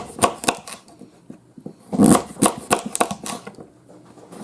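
A knife chops pumpkin into cubes sharply and repeatedly on a board, with irregular clustered strikes close by and a few louder thuds, with no talking.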